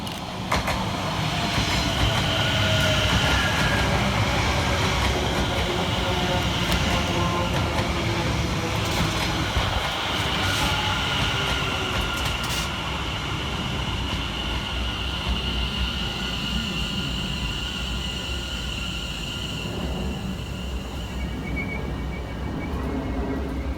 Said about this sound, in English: Passing fast through the station for Greater Anglia is 745-106